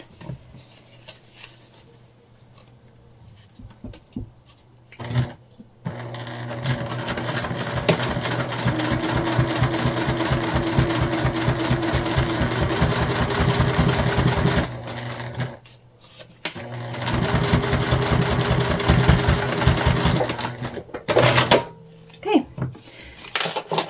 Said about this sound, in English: just a baste stitch here on both sides